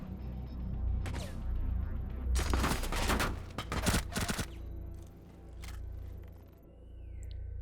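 Gunfire from a G8 rifle in Rainbow Six Siege: a dense burst of rapid shots around the middle, with single cracks before and after over a low, steady game rumble.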